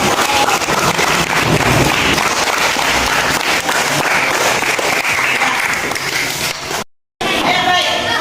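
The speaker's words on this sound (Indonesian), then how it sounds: "sekarang kita beri dulu tepuk tangan" A classroom group gives a round of applause, a steady, dense burst of many clapping hands lasting several seconds before a short cutoff and a brief resumption.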